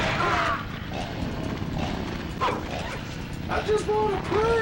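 Small dog creature in the PS1 game Evil Dead barks and yips in several short bursts over game noise, with a voice talking at times.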